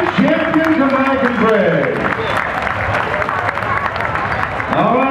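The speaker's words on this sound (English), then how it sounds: "Give these little guys a round of applause." A crowd gives a sustained round of applause for young kids at a basketball camp performance, dense clapping and cheering throughout while a voice speaks over it.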